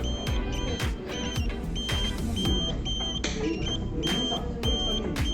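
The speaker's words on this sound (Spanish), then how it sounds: "Sigue sonando la alarma, ¿no es cierto?" A burglar alarm circuit on an electronics workbench sounds continuously, a steady electronic beeping tone with repeated bright pulses running throughout over a busy background clutter.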